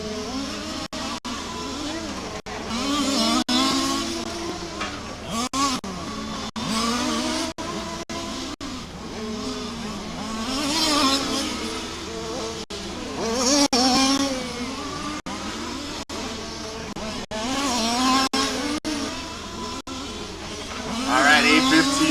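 Race cars lapping the track at Warm Springs during a timed club race, engines rising and falling through repeated revving passes with gear changes, near to moderately distant, while an announcer talks over the action.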